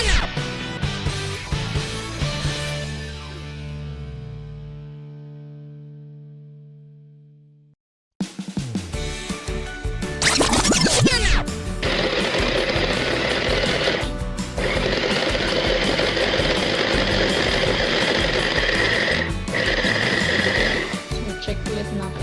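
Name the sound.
blender blending Oreo cookies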